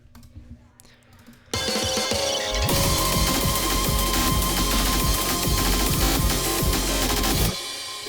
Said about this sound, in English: I cut lows and added delay.